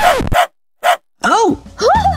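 A police dog in a Minecraft animation gives several short, sharp barks and yips in quick bursts with brief pauses, close and loud, with a whimpering, whining quality in the later sounds.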